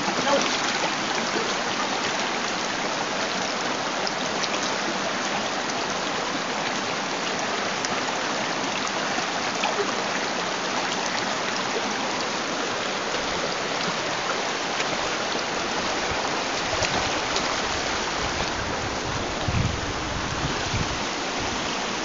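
A stream where people bathe flows in a steady, dense rush of water, close and continuous, with faint voices now and then under the noise.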